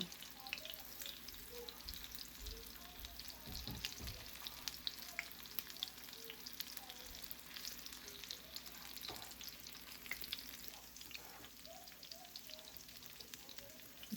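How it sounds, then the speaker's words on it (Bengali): Steady crackling sizzle of food frying in hot oil over low heat, continuous and close, with a few soft knocks in between and no voices. "একটু হালকা আঁচেই ভাজছি না হলে উপরটা হয়ে যাবে ভেতরটা হবে না"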